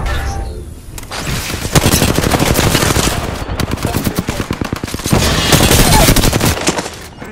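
Heavy automatic gunfire in the battle royale game Apex Legends, loud rapid bursts of shots hammering almost nonstop for several seconds with brief gaps, close and dominant, without speech.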